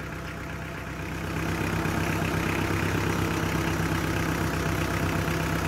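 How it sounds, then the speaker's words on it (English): A Mitsubishi 4D56 diesel engine idles steadily up close after its fuel injection pump is turned, with a constant low rumble that grows slightly louder after the first second and then holds. "See, listen to the engine,"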